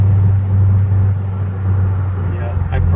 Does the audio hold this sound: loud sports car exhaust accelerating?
yes